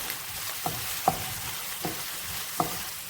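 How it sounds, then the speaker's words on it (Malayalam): Onions and curry leaves sauté in a pan for a Kerala green gram curry, a soft sizzle broken by several sharp scraping stirs of a spoon against the pan, close and without talk. "കറിവേപ്പില നന്നായിട്ട് വഴറ്റി കൊടുക്കാം."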